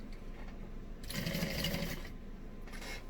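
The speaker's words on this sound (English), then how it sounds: "as we sew across the bottom" A sewing machine stitches across the bottom of a tote bag in one quick, rapid burst of whirring needle strokes, close and fairly quiet, with soft handling sounds before and after.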